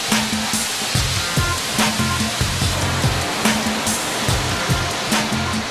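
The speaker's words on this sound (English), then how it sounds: "this huge drum spins the material with water to sieve out any remaining pieces of stone." A huge drum spins mineral-rich sand with water to sieve out leftover stone at a mining plant, giving a loud, constant rushing wash with rhythmic low rumbling thumps repeating throughout.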